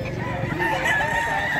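A Boston Roundhead rooster at a pet market crows one sustained, close cock-a-doodle-doo, with other fowl clucking and market murmur faint in the background.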